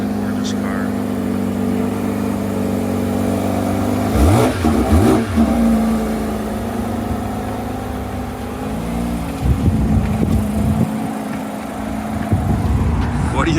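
A car engine rumbles loudly nearby, rising in a couple of revs that swell and fall back to a steady idle.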